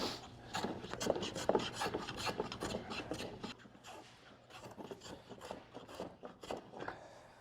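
Hand plane shaving down a wooden bowtie patch held in a vise, planed across the grain: repeated close rasping strokes in a steady rhythm, fading slightly toward the end.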